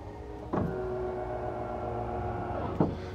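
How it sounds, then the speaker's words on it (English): Electric actuator on the Mercedes EQXX deploying its extendable rear diffuser: a click starts a steady motor whine that runs evenly for a couple of seconds before a second clunk stops it, close and alone. "this is an extendable rear diffuser doing the exact opposite"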